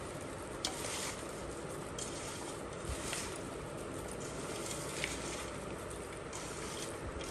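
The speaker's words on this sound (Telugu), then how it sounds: "ఇలాగే మసాలా అంతా ఒకసారి ముక్కలకు పట్టించేయాలి" Chunks of mango being tossed with masala for Andhra avakaya pickle, giving a steady, close rustling and gritty mixing texture with faint periodic scrapes, no voices.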